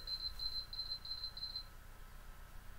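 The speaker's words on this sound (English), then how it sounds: "I don't know why beeping goes off on my tablet for some reason." A tablet gives off a high, thin electronic alarm beep, repeating in short regular bursts for about a second and a half and then stopping, over a faint room hum with no talk.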